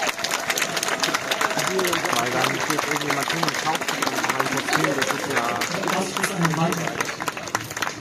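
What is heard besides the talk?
audience applause for the judges at a cosplay contest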